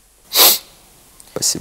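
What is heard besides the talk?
person sneezing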